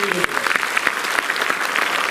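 Loud, enthusiastic applause from an audience at a stage event, dense rapid clapping filling the space throughout with no break.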